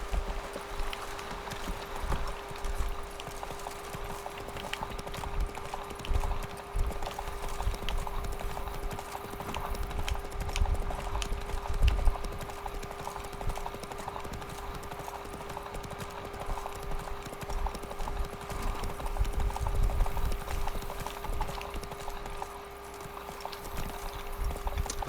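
In The Witcher 3, Geralt's horse Roach trots along with steady, rhythmic hoof clip-clops under a constant tonal game ambience and faint background sounds.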